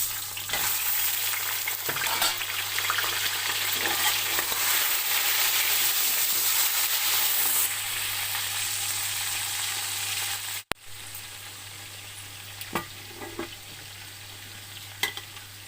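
A kilo of chicken fries with browned garlic in a pot for a pulao, a loud, dense sizzle that drops to a quieter, steadier fry after a brief break, with a few faint spoon knocks and a low steady hum underneath.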